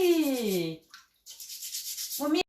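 Shellfish scrubbed clean with a scouring pad in water, a steady rasping scour lasting about a second, close and fairly loud, with a voice talking just before and after it.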